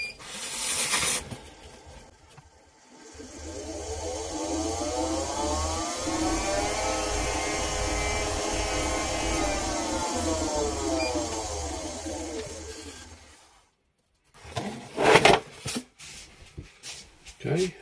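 A woodturning lathe spins a painted wood piece, its motor humming steadily with a rising then falling whine for about ten seconds before stopping, followed by brief handling noises.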